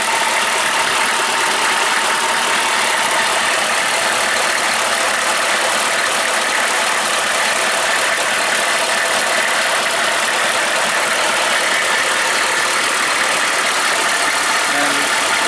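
A 1995 Suburban SUV engine idling steadily and loudly up close, running clean with no smoke or blow-by, a constant even drone with no variation or talk.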